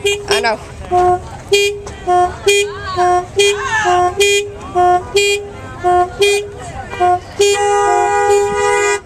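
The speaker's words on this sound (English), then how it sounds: "Keep honking, people!" Car horns honking at a rally, a series of repeated loud toots in a rhythmic on-off pattern ending in a long sustained blast, with people talking and cheering between them.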